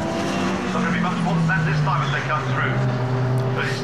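Monoposto single-seater race cars at Brands Hatch in 2012, engines droning loudly as they power down the straight, a steady high roar with shifting pitch under continuous commentary.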